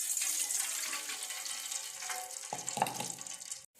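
Water pours steadily into a cooking pan for making kesari, a continuous splashing rush that shifts in tone partway through and stops abruptly near the end.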